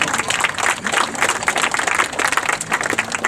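An audience at a D-Day 70th anniversary memorial concert claps in a dense, sustained burst of applause, many hands filling the space steadily from start to finish.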